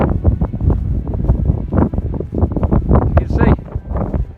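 Strong, gusty wind buffets the microphone on a high mountain trail near a WWII crash site. Loud, continuous roaring fills the whole clip, and a voice can be heard talking underneath it.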